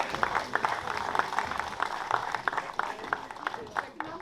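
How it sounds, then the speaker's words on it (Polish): At a celebration marking the 150th anniversary of the first train's arrival in Olsztyn, an audience claps warmly in a loose, rhythmic patter for a few seconds while voices carry on underneath. "Gorące brawa, zapraszamy całą grupę."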